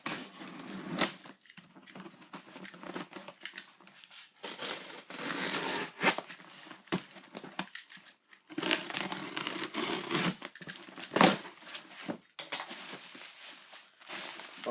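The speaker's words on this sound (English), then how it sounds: "let's just cut the box." Cardboard box being cut open, with repeated scraping, tearing and crinkling bursts of blade through card at close range, broken by short pauses.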